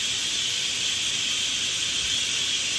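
Onion pakoras sizzle in hot oil for a lunch of kadhi and rice, a steady, even hiss of frying that holds level throughout with no voices over it.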